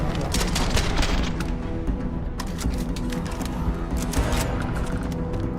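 Dense, continuous gunfire from Starfield, rapid overlapping shots and booming bursts that fill the whole stretch at high volume, with no pauses between volleys.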